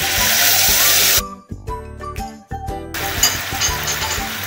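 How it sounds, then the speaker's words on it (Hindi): Soy sauce splashes into a hot pan of frying prawns for honey garlic prawns, giving a loud, steady sizzling hiss that cuts off briefly mid-way and then resumes just as strongly. "अभी मैं इसमें सोया सॉस डाल रही हूँ।"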